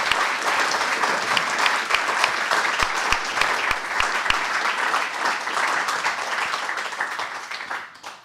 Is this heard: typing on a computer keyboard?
no